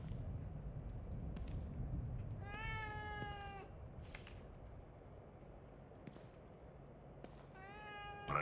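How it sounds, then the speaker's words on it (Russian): A cat meows several times in a horror video game, the calls spaced apart over a low, rumbling ambient drone with brief sharp effects in between. "Кошка?"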